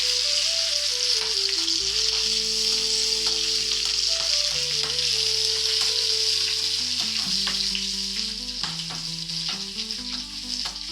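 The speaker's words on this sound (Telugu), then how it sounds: "నాకు నూనె అయితే వేగిపోయింది, పోపు వేసేసుకుంటున్నాను" Spices crackle and sizzle in hot oil, a steady close frying hiss with faint stirring, continuing without any talk.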